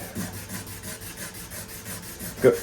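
Gel coat on a 1932 coupe body being hand sanded with 320 grit paper, heard as a steady run of close, soft back-and-forth rubbing strokes, ending in a slightly louder scuff.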